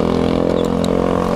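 Honda Bros 150 flex motorcycle engine droning steadily and close for a brief moment, a continuous mid-pitched hum with faint rattles on top.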